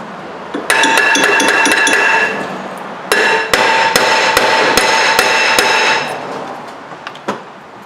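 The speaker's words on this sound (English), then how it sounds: "we just tap it a couple of times and we should be able to pop that off" A hammer repeatedly strikes the rear brake rotor of a 2010 Nissan Murano to free it, sharp metallic ringing blows close by in two runs of steady taps, then a couple of final hits.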